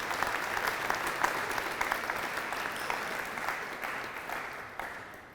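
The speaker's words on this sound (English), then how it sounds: "Maybe we could give them a round of applause again." A round of applause fills a sports awards banquet hall, many hands clapping densely and steadily for about five seconds before thinning slightly at the end.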